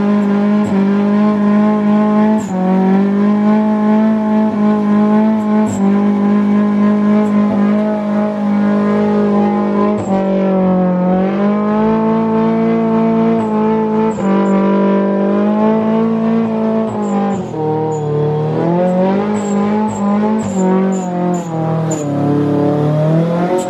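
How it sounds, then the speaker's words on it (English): A car performing a burnout, its engine held at high, steady revs with sustained tire squeal, loud and continuous throughout with slight pitch dips. "I gotta do a graduation burnout."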